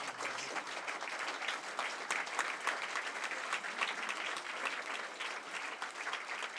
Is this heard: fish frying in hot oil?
no